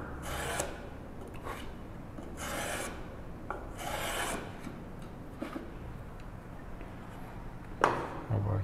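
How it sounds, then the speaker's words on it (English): A hand plane takes several passes along the edge of a wooden tissue box, cutting a slight chamfer. Repeated rasping strokes of varying length come and go close by, with a sharper knock near the end. "I'm just gonna add a very slight chamfer with a plane"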